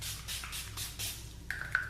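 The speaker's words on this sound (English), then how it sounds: "I'm just gonna go ahead and put on some more setting spray" Several short bursts of setting spray misted onto a made-up face, a soft airy hiss repeated in quick pulses at close range, ending with a couple of faint clicks.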